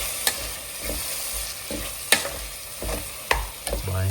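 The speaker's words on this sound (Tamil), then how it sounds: "புளி சேர்த்துட்டு நல்லா அந்த புளி தண்ணி வந்து திக்காக வந்து கொதிக்க வச்சிடலாம்." Prawn pickle simmering with tamarind water in a pan, a steady low bubbling and sizzle broken by a few sharp clinks and scrapes of a stirring spoon, close up with no talking.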